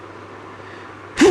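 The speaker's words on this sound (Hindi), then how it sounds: "तो यार अचानक छींक आ गई" A single sudden, loud sneeze close to the microphone bursts out at the very end, following a moment of quiet room hum during a maths lesson.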